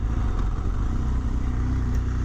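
The engine of a 2017 BMW R1200GS Exclusive motorcycle, rated at 125 horsepower, pulls away in third gear from low speed. It gives a deep, continuous rumble that holds steady, with wind noise mixed in and no voices.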